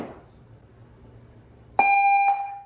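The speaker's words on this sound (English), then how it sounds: "Who keeps ringing the front doorbell?" A single electronic front doorbell chime rings out clearly, a sustained two-tone ding after a quiet moment.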